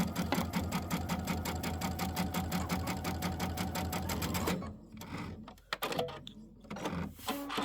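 A sewing machine stitches fabric in a fast, even mechanical run for about four and a half seconds, then stops, followed by quiet handling clicks and rustles nearby.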